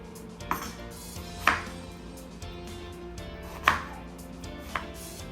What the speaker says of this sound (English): Tomatoes as well. I'm going to cut it up.